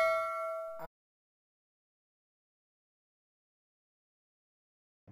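A single bright notification ding rings out at the start and cuts off abruptly, followed by near-total silence.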